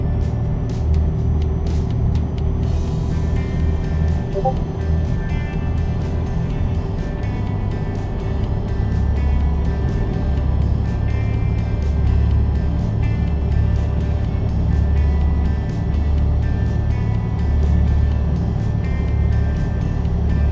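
A truck cruising in American Truck Simulator, a steady low engine drone with constant road rumble, close and even in level, and a brief rattling burst near the start.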